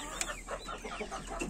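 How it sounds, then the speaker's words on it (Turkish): Silver Leghorn chickens, two hens and a rooster, give soft scattered clucks amid a faint, noisy barnyard background with a low steady hum. "İki tavuk, bir horoz. Gümüş ligorinlerimiz var."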